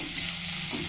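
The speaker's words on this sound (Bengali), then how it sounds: "পেঁয়াজটা লাল করে ভেজে নিচ্ছি।" Chopped onions frying in oil after a tempering of cumin, cardamom, dried chilli and bay leaf, a dense, steady close sizzle filling the brief moment without a break.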